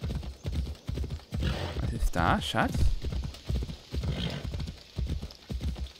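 Horse hooves clip-clopping in a steady rhythm while riding in Assassin's Creed Odyssey, close and moderately loud, with someone talking over the hoofbeats throughout.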